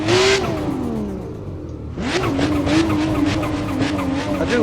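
A drift car engine revs high and screams with a screamer-pipe exhaust note in Assetto Corsa, tires squealing as it slides through a drift, loud and close, with a brief lull midway.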